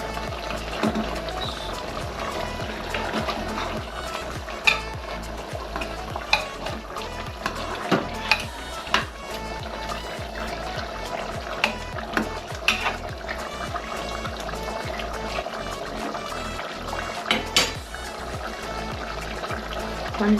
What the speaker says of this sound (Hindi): थोड़ा पानी डाल दिया।